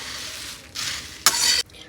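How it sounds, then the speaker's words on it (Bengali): Puffed rice crackles as it is dry-fried and stirred in a pan, a soft sizzling hiss broken by two brief louder bursts of scraping. It is close and fairly quiet. "তাই মুড়িটা ভাজা করছি"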